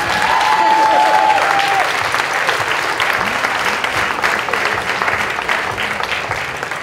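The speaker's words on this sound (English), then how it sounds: "Give them a round of applause." An audience at a comedy fundraiser for the Wounded Warrior Project applauds veterans, loud dense clapping and cheering that fills the room throughout and slowly eases off.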